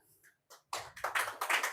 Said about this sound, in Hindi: ताली बजाए खुद के लिए